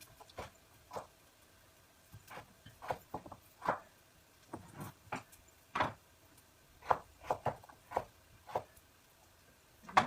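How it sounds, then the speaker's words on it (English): Knife chopping potatoes on a board in a home kitchen, a dozen or so separate crisp cuts at an uneven pace, close but faint, with quiet gaps between strokes and no speech. "Just chopping potatoes and adding into this."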